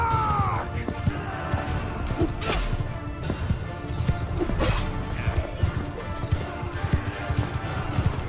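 Horses gallop in Mount & Blade 2: Bannerlord, a rapid run of hoof clip-clops with sharp crash-like impacts and a neigh near the start, loud and busy throughout an eight-second battle.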